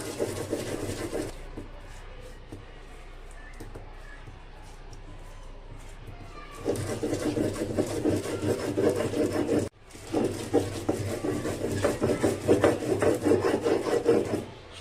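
Mustard seeds and garlic are ground on a grinding stone, giving a close, rhythmic rasping scrape that grows louder and more rapid partway through, with a short break before the strokes resume.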